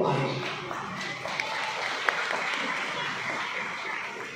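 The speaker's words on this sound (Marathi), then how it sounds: "तुम्ही टाळ्या वाजवून अडचणीत आला" Applause rises from an audience at a youth conference as a broad, steady wash of clapping, while a voice talks over it.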